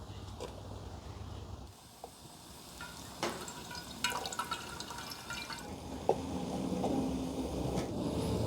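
Hot water trickles and drips while outdoor camping coffee brews, a soft, close splashing that builds into a steadier pour near the end, with no voices.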